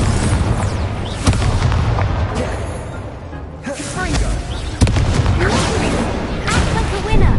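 Fire spell blasts from Hogwarts Legacy go off repeatedly, loud booming bursts that crackle and roar in rapid succession, mixed with game sounds and a voice.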